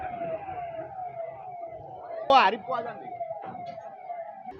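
Wailing sirens of a fire brigade engine and an ambulance racing to a blaze at a spice shop in the Hathikhana APMC grain market, Vadodara, holding a steady tone with a louder burst midway amid street noise and voices.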